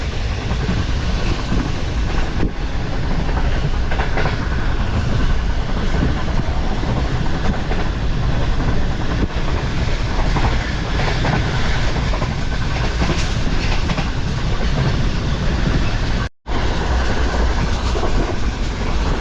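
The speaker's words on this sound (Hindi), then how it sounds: "तो दोस्तों अब तक की सबसे टॉप स्पीड पर आ चुकी है ट्रेन" Pakistani Shalimar Express passenger train at top speed, a loud continuous rumble of wheels on track with steady clickety-clack, broken briefly by a sharp dropout near the end.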